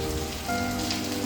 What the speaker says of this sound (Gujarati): પાણી અને પાછો ઉપરથી વરસાદ.